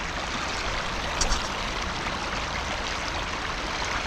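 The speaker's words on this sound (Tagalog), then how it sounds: "Lakas ang agos, oh." A strong river current rushes in a steady, loud, unbroken wash of water, constant from start to finish with no voices.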